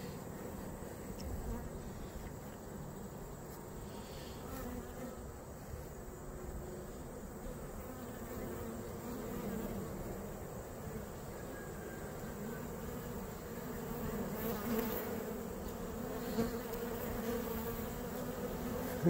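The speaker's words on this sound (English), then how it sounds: "It's like being caught in a snowstorm, except it's all bees." A honey bee swarm buzzes all around in a dense, unbroken drone, the hum holding steady and close for the whole stretch without talk.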